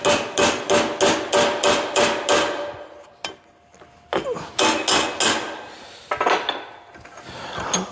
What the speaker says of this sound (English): Let me get this little sledgehammer and hammer it down.